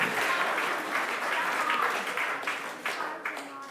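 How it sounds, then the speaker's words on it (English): An audience at a Christingle church service claps for a volunteer who played the Grinch, a steady dense applause that holds throughout and starts thinning toward the end. "Can we give our Grinchella a round of applause?"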